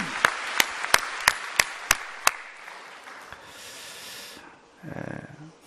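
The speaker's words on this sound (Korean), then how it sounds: "응답하신 하나님께 큰 박수로 영광을 돌리겠습니다" Congregation applause during a church worship service: a run of evenly spaced sharp claps, then a brief wash of many hands clapping together that fades into a low rumble near the end.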